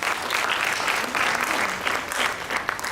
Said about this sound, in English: So let's give a round of applause once again.